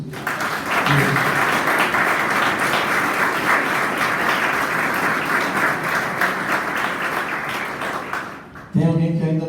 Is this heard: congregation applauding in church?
yes